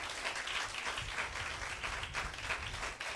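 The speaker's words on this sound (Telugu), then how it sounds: "నెమ్మదిగా చప్పట్లు కొట్టండి" An audience at a Telugu Christian church service claps steadily and softly, a dense continuous patter of many hands that holds at an even level throughout without pause or talk.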